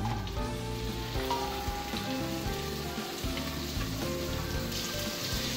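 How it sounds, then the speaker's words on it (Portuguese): Leek sautéing in olive oil in a hot pan for caldo verde, a steady close sizzle and crackle with faint stirring, no talk. "Estou deixando aqui, ó, dar uma refogada, dar uma murchada bem nesse alho poró"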